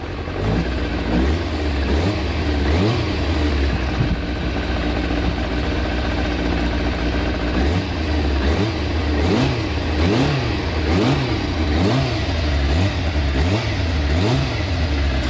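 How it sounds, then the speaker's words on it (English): A Kawasaki ZZR 400 motorcycle engine, after a clutch swap, idles loudly close by, then revs repeatedly in rising and falling bursts, with no talking over it. "Let's have a little try."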